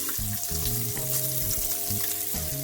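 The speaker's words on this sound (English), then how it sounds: "I'm just going to let this fry a bit" Meat frying in a pan with a little olive oil, a close, steady crackling sizzle over a low kitchen hum, with no voices.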